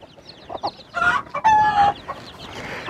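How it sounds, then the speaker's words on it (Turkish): Four small chicks peep in thin, high-pitched chirps among clucking hens, several birds calling close by in a busy coop. "Dikkat ediyorsanız şurada küçük 4 tane civciv var."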